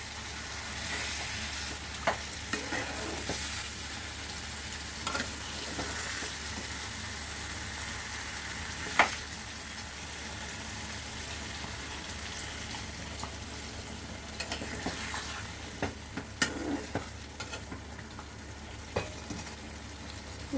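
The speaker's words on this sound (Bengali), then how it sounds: "এবার আমি এতে পরিমাণ মতন জলটা দিয়ে দেবো।" Mutton curry sizzling and frying in a pan as water is added, with steady hissing and bubbling, occasional stirring clinks and scrapes, fairly quiet and close, with no talking.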